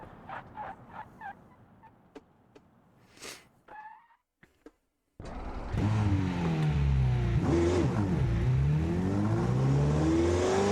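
Car engine in the BeamNG driving game pulling hard in first gear up a steep mountain climb, loud and sustained with rising and falling revs, after a few faint turkey-like gobbling calls and a brief quiet gap.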